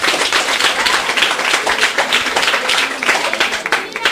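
An audience claps in dense, continuous applause, loud and close, with a speaker's voice mixed in over the crowd.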